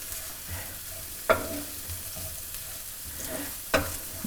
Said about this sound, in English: I'm just adding a teaspoon of oil into the warm pan. And I'm just putting the chopped onion